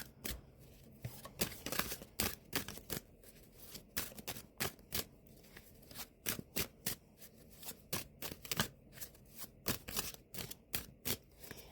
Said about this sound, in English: So I'm just going to go ahead and shuffle